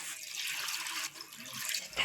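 Small fish are washed in water, giving a continuous close splashing and swishing with a brief pause and a final slosh.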